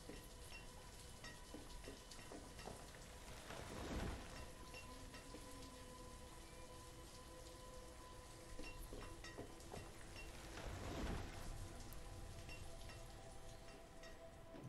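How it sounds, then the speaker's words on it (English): Steady rain in the city-building game Banished, a continuous soft patter of drops on surfaces, fairly quiet and even throughout, swelling slightly in two brief gusts with no voices. "It's raining again."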